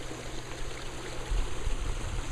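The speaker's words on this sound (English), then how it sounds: "now the water is ready to go out through the" Water rushes steadily out through the head race of a water mill, a continuous broadband flowing hiss that swells a little louder partway through, with no voices heard.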